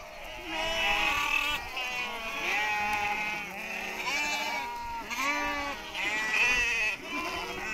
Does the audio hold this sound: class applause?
no